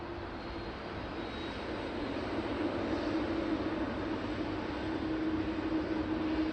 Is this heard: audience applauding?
no